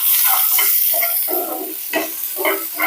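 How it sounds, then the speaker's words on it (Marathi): Green chillies, red chillies and onion are tossed in a pan over high flame, giving a close, loud, crackling sizzle with bursts that rise and fall as the pan is shaken, and no speech. "सगळं एकत्र टाकून हाय फ्लेमवर मस्तपैकी टॉस करून घ्यायचं आहे आपल्याला"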